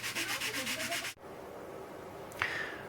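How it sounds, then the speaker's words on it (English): A Dremel rotary tool sands in rapid, pulsing strokes up close for about a second, then cuts off. A faint hum follows, with a short whine near the end. "so I've used the Dremel rotary tool"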